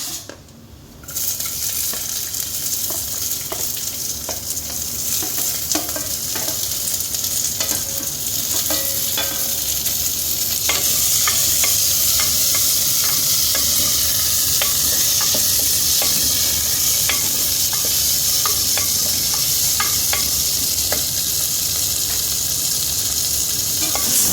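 Small onion, tomato and green chili frying in a pan for a home-cooked greens dish, a steady loud sizzle with occasional stirring clicks and scrapes throughout, no talking.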